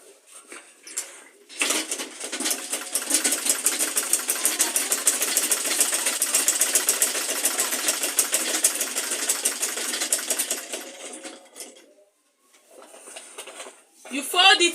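A sewing machine stitches folded insulated lunch-bag material in one long steady run of rapid needle clatter, close and loud, stopping briefly near the end before a short final burst.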